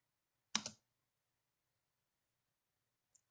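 A single sharp spacebar press on a computer keyboard, close and crisp in near silence, followed a few seconds later by a tiny faint click.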